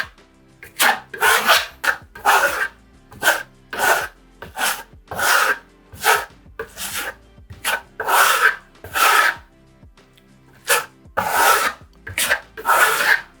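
Steel trowel pressing and spreading a second coat of Venetian plaster onto a wall, a rapid series of close, scraping, rasping strokes in an uneven rhythm with brief gaps.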